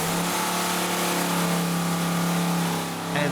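A car engine revs at a steady, loud, mid-pitched pitch before mothballs are added to the fuel tank, then briefly dips near the end before coming back.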